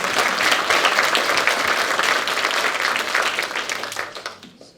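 Dense, steady applause from the crowd at a senior volunteer recognition breakfast, loud and sustained before tapering off at the end.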